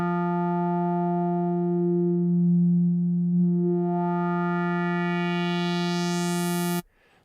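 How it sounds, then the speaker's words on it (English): A synthesizer tone runs steadily through a low pass filter as the resonant peak sweeps down and then back up, giving a whistling, vowel-like shift over a constant buzzy note before it cuts off abruptly. "Now let's just try that resonance. You can hear that kind of sweeping peak"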